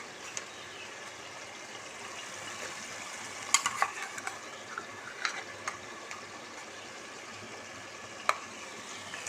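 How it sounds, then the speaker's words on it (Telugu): Ginger garlic paste fries quietly in a pan for mutton curry, a faint continuous sizzle with occasional small clicks and scraping from stirring. "అల్లం వెల్లుల్లి పేస్ట్ కూడా ఫ్రై అయిన తర్వాత ఒక హాఫ్ స్పూన్ పసుపు యాడ్ చేసుకుందాం"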